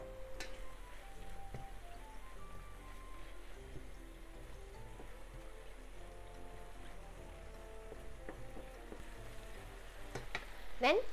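Browned ground meat fries with grated garlic and ginger for Japanese dry curry, a soft steady crackle under faint background music, with a few louder clatters near the end.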